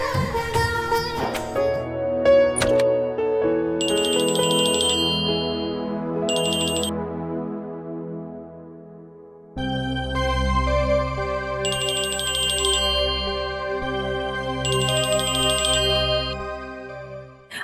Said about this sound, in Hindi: मीका, मैं बार बार फोन काट रही हूँ, इसका मतलब यही है ना कि मैं बिजी हूँ अभी?